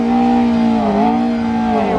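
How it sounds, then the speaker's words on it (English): A McLaren P1 supercar revs hard and close among a crowd of sports cars, a loud, sustained engine tone that dips briefly and then climbs again, heard on its own without voices. "P1 is revving right here."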